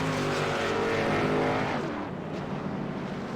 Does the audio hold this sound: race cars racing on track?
yes